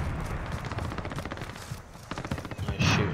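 Automatic weapon fire in Warzone, a battle royale shooter, crackles in rapid close bursts that dip briefly midway and then swell louder again near the end.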